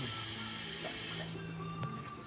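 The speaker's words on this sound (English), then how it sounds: "We have a boost leak right here in the hose." Pressurized air hisses loudly and steadily from a boost leak in a hose on an Audi RS4 engine, then drops off sharply to a faint background hum with a brief knock.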